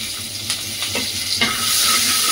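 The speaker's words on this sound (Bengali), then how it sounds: "তেল রেডি, এবার মশলাগুলো দিয়ে দেব।" Spices dropped into hot oil for a prawn malai curry, a brief crackle that builds into a loud, steady frying sizzle up close, with no voices.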